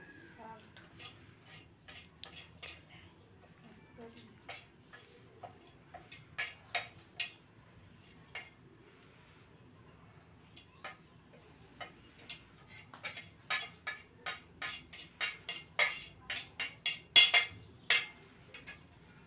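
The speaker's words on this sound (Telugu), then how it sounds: "మసాలాలన్నీ బాగా మిక్స్ చేసుకోవాలి." Spices being mixed into potatoes for aloo paratha filling, heard as a run of light, irregular clicks and clinks of a utensil against a vessel that grow denser and louder toward the end, with no talking.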